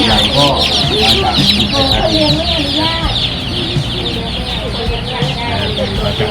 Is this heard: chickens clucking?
yes